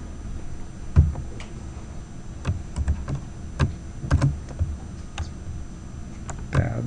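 Computer keyboard typing during a lecture: scattered clusters of clicky keystrokes, some single taps and short bursts, close and moderately loud with no talking.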